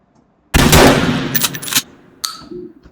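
Gunfire in the video game Happy Hills Homicide erupts suddenly after brief silence, a loud burst of shots that decays, then a couple of sharper single reports near the end.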